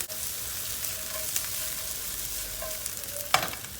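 Onions and green peppers sauté in a pan for a köfte dish, giving a steady close sizzle and hiss with a few soft stirring scrapes and a sharper utensil clack near the end.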